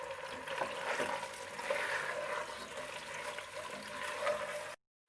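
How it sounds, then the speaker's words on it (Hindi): Chicken pieces with garlic-ginger paste sizzling and frying in a hot pan, a steady continuous crackle and hiss with occasional stirring scrapes, moderately close, no talking, ending abruptly. "चिकन डाल देंगे, लहसुन अदरक का पेस्ट, और इसको 5 मिनट अच्छी तरह भूनेंगे"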